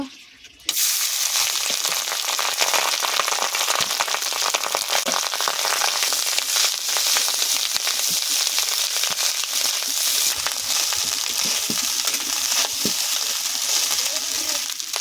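Cooked rice being stir-fried in white vegetable oil in a pan for fried rice gives a loud, continuous sizzle with scraping stir sounds that starts abruptly and holds steady.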